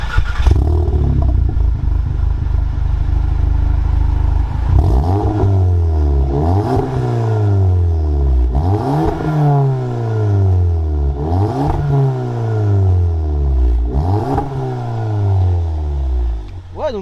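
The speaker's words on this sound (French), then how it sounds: "au niveau de la sonorité, bah tu peux la démarrer juste voir à quoi ça correspond" Volkswagen Golf engine starting and then revving in repeated bursts, each rev climbing sharply before dropping back to idle, loud and close, about five blips in a steady rhythm, with no talk over it.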